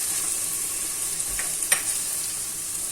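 Spiced potatoes and broad beans sizzle steadily in a hot pan while being stirred, a constant bright hiss with a couple of faint scraping strokes near the middle, close by and without talk.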